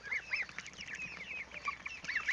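Farm geese, about three weeks old and fed on wheat, corn and grass, give a flurry of faint, high honks and calls from a distance, with no voices.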